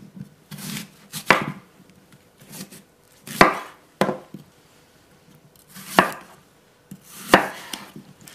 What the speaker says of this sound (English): The next thing we're going to do is chop an apple. What I like to do is I like to cut along the core.